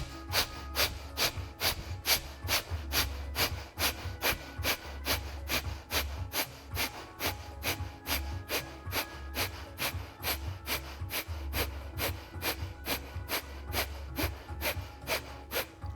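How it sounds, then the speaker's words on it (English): Rapid yoga breath of fire, quick forceful rhythmic exhalations through the nose repeating at an even steady pace of roughly two per second, close and alone without talk. "Breath of fire."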